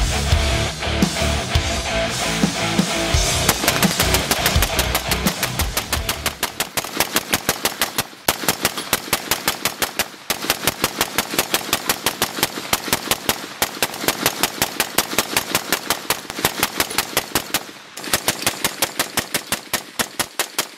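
A rifle fitted with an offset optic mount fires sustained rapid gunfire through a burn-down, a dense run of sharp shots in long strings with brief pauses, loud and close.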